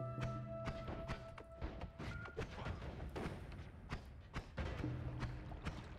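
Explosions in the video game Noita go off as a run of dull, booming thuds and thumps, one after another, fairly loud in a busy, continuous game soundscape.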